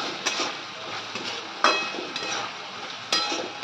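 Egg chicken fried rice tossed with red chili sauce in a pan: a steady frying hiss, a spoon scraping and stirring, and a few distinct metallic clinks against the pan. No talking.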